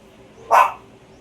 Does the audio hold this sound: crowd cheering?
no